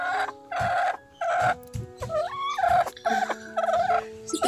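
Chickens in a garden on a morning let out a series of close, loud, tonal clucks and short calls in uneven bursts.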